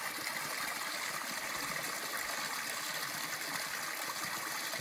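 A mountain stream flows steadily near a lakeside backpacking camp, with a constant broad rush and trickle of water, close by and without pause.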